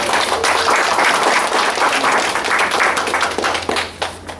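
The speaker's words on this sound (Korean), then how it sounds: "우리 박수 한번 치겠습니다" A church congregation claps for a newly welcomed member during a Sunday worship service in Auckland: loud, dense, sustained applause that thins and tapers off in scattered claps toward the end.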